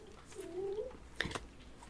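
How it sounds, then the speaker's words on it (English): A cat gives a single short, faint meow, rising and falling, inside a quiet bookstore, followed by a soft brief rustle. "there's cats in here"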